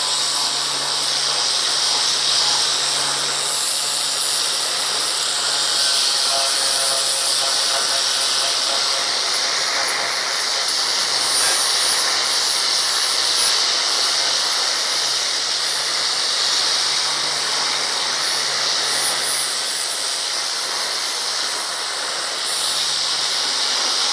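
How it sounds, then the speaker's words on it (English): A flap disc grinds the edge of a metal panel during a Crew Cab Charger restoration, giving a loud, continuous abrasive hiss and whine that holds steady for over twenty seconds, close up and with no talk. "this is a flap disc. This is used for just, you can polish up edges, but it takes material off"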